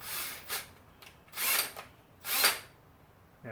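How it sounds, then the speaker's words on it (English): A power drill whirs in three short bursts separated by brief pauses, boring out a carburetor overflow tube on a Honda CB750 motorcycle, close and fairly loud, with no talking. "start it on the center and drill it out"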